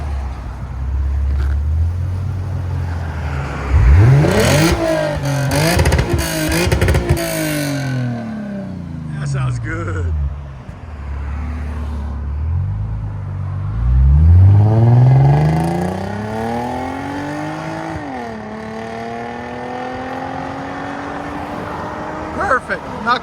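Exhaust of a 2015 Lexus RC 350 with a 3.5L V6, APEX mufflers and resonator delete, revved twice in loud, deep sweeps up and back down, with idle between and a brief spoken remark.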